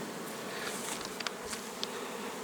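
Honeybees buzz around a hive, with many idle bees clustered outside the entrance. It is a soft, continuous drone with a few brief, faint ticks and flicks from individual bees close by.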